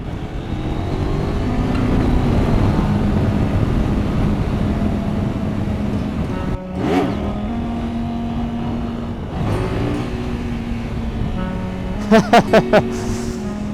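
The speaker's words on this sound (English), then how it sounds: "Oh man, this bike is so sick." A street motorcycle's engine at a street bike event drones steadily while riding, dips and climbs in pitch as gears change, then lets out a short, sharp series of loud pops near the end.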